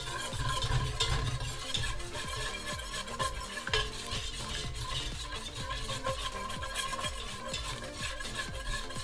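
A dark gumbo roux stirred continuously in a pot: a rhythmic scrape of the spoon against the pot bottom repeats over a soft, constant sizzle, close and steady, with no speech.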